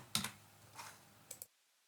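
A few quick keystrokes on a computer keyboard type a new name in a quiet room. Three short clicks come close together, then silence.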